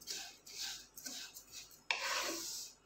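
Fine sivyan vermicelli is stirred in a pan over low heat, making repeated dry rasping, rubbing strokes, close and fairly quiet, with a sharper scrape near the end.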